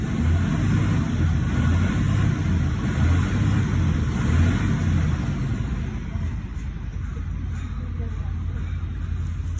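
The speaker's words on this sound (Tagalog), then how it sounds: "Ayan yung ating background sounds. Tunog ng PTO." A steady mechanical drone of a dump truck's power take-off runs continuously, loud and close, with a slight drop in level near the end and someone talking over it.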